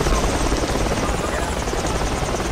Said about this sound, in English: Everybody get on the chopper now.